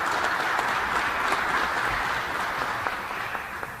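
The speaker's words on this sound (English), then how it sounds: "Let's give them a round of applause." A large audience applauds steadily at an event marking a Buffalo film and TV production facility, the dense clapping holding at a constant level from start to finish with no one speaking over it.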